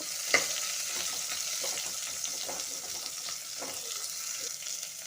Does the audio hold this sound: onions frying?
yes